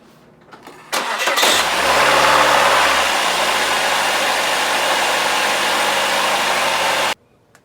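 A 1995 Saturn SL2 cranks briefly, catches and settles into a steady, close mid-pitched idle that runs for several seconds before cutting off abruptly.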